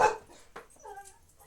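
A dog barks and whimpers at a mailman, one sharp bark followed by a softer yelp and a whiny tone, fairly close and not very loud.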